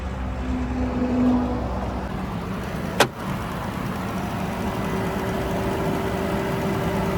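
A 2012 Bentley Continental Flying Spur Speed's 6-liter twin-turbo W12 engine idles smoothly nearby in a steady low hum, interrupted once by a single sharp click.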